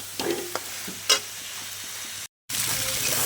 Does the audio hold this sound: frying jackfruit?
yes